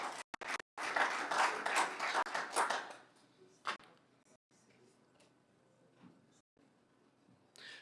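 Applause and clapping break out in a council chamber at a municipal council meeting, a loud dense burst for about three seconds that fades into scattered claps and quiet room noise.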